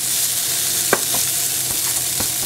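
Broccoli and asparagus sautéing in a pan, a constant loud hissing sizzle with a few soft clinks and scrapes of stirring.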